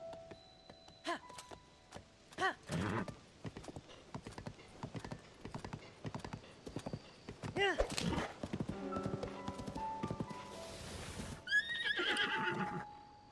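A horse in the video game Zelda: Tears of the Kingdom clip-clops along with a rhythm of hoofbeats, then lets out a whinny near the end, layered over game sound effects and ambient music.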